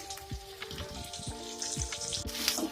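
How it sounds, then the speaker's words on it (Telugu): Carrot and ginger pieces fry in a pan for wheat rava upma, a soft close sizzle with small crackles and occasional stirring taps, with no one speaking. "ఇవన్నీ వేసుకుని ఇలా ఫ్రై చేసుకోవాలండి"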